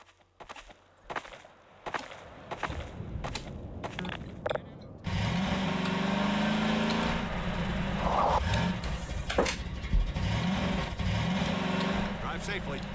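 A car in the video game Half-Life 2 starts up and drives, with engine revving and rising whine after a few seconds of footsteps, while voices talk over it.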